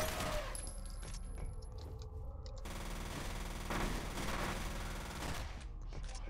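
Sustained automatic gunfire from a firefight in the F.E.A.R. shooter game, a dense continuous barrage with bursts layered over game ambience, carrying on loudly throughout with no talking.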